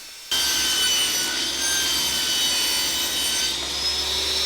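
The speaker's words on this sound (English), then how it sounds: "I'm making the tray from some 12mm plywood, which gets cut to size, firstly using the track saw and then the table saw." A power saw rips steadily through 12mm plywood, first with a track saw and then a table saw, giving a loud, continuous whining cut that starts abruptly and holds for several seconds.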